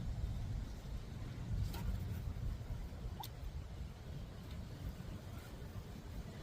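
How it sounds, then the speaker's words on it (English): Wind blows outdoors across a garden where sweet potato slips are being planted, making a constant low rumbling buffet against the microphone with a couple of faint ticks, with no voices. "Got a lot of wind today."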